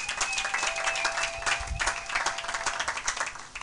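Church congregation applauding in a French-speaking service: warm, steady clapping from many hands, fairly soft and even for several seconds.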